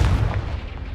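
A Confringo spell in the Hogwarts Legacy video game bursts in a single deep boom that rumbles briefly, loud and close, and fades within a second.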